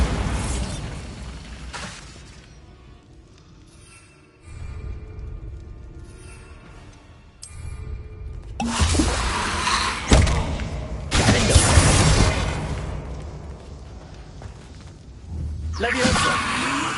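Bombarda blasting spells cast in Hogwarts Legacy burst in a series of loud explosive thumps and crashes over background game noise, several blasts stacked close together with a brief quieter stretch between.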